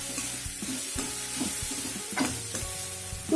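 Cabbage sizzles and is stirred in a hot wok, with steady frying hiss throughout and several sharp scraping stirs. There is no talking.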